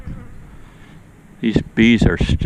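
Agitated bees buzz around near a solar wax melter, a low, rough hum that runs steadily before speech breaks in over it for the latter half.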